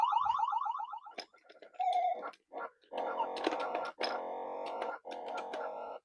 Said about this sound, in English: here's Joust for the mighty 5200